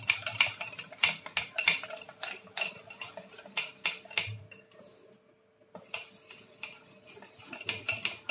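Malvani malpua batter being stirred and beaten in a metal vessel with jaggery, sharp scraping and clinking strokes in a quick, uneven rhythm, close and fairly loud, with a short pause in the middle.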